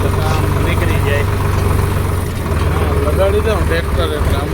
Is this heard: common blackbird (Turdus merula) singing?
no